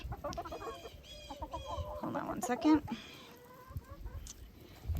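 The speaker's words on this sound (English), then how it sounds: "my rooster is coming after me right now" Nearby chickens, including a rooster, cluck in short repeated bursts on a farm while a person speaks briefly amid rustling.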